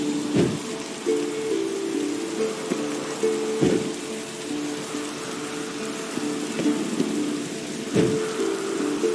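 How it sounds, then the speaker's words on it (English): In The Witcher 3 at Kaer Morhen, steady rain patters throughout while low thunder rumbles now and then, with a tonal synthetic hum underneath, no talking. "Looks like rain."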